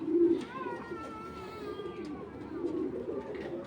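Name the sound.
racing pigeon cooing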